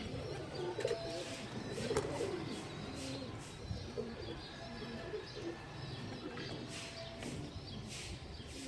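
Pigeons coo softly through a steady background hum, with a few faint chirps and rustles mixed in.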